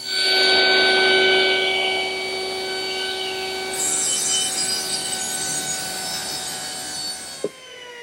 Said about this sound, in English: So I slide the whole assembly over and just bring it to the blade where I want the taper to start.